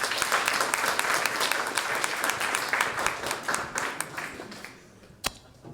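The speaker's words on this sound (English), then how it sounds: "Please, a round of applause for your super team." A demo day audience claps in a dense burst of applause that gradually thins, leaving a few scattered claps and one sharp final clap near the end.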